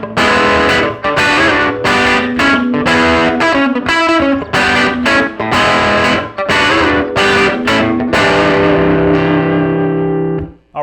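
Funk electric guitar riff variation in New Orleans style: choppy, rhythmic chords and single-note stabs with crisp attacks and short gaps, loud and close, ending on a held chord.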